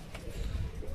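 Domestic Giribaz pigeons from Murshidabad cooing softly in a low, steady murmur, with a faint higher call partway through.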